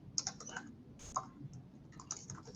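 Quiet typing on a computer keyboard, a few scattered light key clicks in short bursts over a low background hum.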